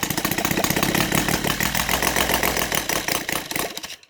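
A Saito 450 model engine converted to run on gasoline fires up and runs loud and steady, a dense continuous drone with fast pulsing that cuts off abruptly near the end.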